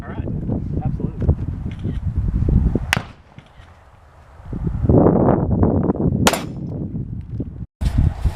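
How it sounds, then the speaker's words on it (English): Sharp cracks from a .22 rifle fired at an outdoor gun range: a few separate shots spaced seconds apart, with people talking around and between them. "So you shot a 22 rifle"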